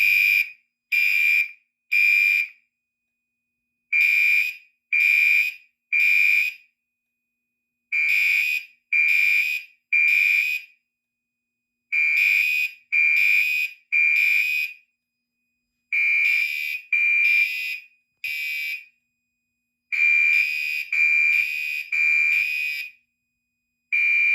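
A fire alarm control panel sounds during a system test, loud piercing electronic horn bursts in repeated groups with short silent gaps between them, filling the room with no talk over it.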